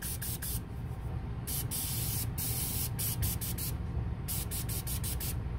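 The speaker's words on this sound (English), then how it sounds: "I'm gonna go ahead and spray over the top here just to make sure they crisp up good." A nearly empty cooking oil spray can misting over wonton shrimp rangoons, giving about a dozen short sharp hissing bursts in irregular clusters, close up over a steady background rumble.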